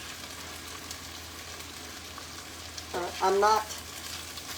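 Chicken thighs searing in a pan give a steady, close frying sizzle throughout, with a brief burst of louder crackle near the end as a person speaks briefly.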